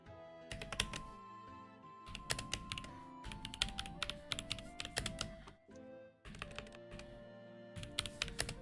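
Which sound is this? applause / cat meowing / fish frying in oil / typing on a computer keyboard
typing on a computer keyboard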